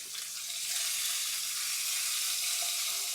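Food frying in a pan in a home kitchen, a steady bright sizzle that stays even throughout, with a few faint stirring clinks and no voices.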